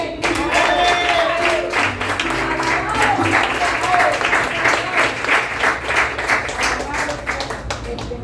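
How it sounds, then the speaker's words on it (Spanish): Church congregation applauding loudly, a dense, continuous wash of many hands clapping for several seconds, with voices and some musical tones underneath. "Aplaude fuerte"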